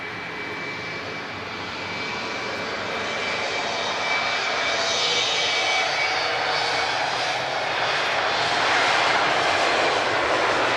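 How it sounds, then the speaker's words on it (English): TAP Express Embraer E195 advanced range with General Electric CF34 engines departing Lisbon Airport, a loud, steady jet roar that builds and swells over several seconds as the aircraft climbs away, with no voices. "Nice noisy CF34 engines there."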